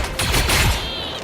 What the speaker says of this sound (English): we're gonna shoot some dudes